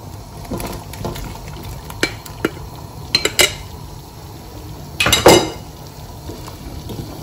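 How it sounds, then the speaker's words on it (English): Pieces of chicken go into a pot of boiling masala, with a few sharp clinks of a utensil against the pot over a steady bubbling simmer, including one heavier clatter near the end. "I want to add all the chicken to this."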